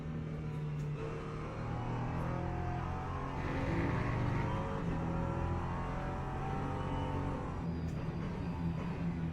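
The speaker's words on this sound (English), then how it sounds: "I still don't understand how this is a 6-cylinder engine. It just doesn't sound like a six-cylinder at all." A six-cylinder race car engine in Le Mans Ultimate drones continuously at steady revs, a dense layered mechanical roar with slight swells in pitch and no speech over it.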